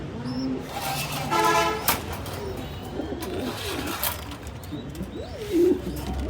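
Pigeons coo in a loft of high-quality fancy breeds, several soft cooing calls repeating at moderate loudness over a steady background of other birds, with a brief horn-like toot partway through.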